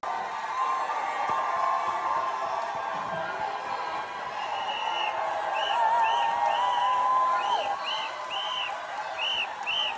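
A large crowd celebrating the passing of a rent freeze bill, a sustained roar of cheering voices with scattered whoops and shouts rising midway, heard at a distance.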